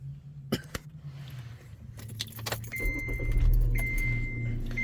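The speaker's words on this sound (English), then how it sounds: "when I turn the car back on" A car engine cranks and starts up after being switched off, rising into a steady low idle rumble, with a brief jangle of keys early on and a faint electronic whine appearing once it runs.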